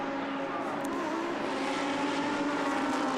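A Lamborghini Super Trofeo race car at Monza, heard as a broad, steady roar of engine and track noise that stays loud and even throughout, with no clear rise or fall of a pass-by.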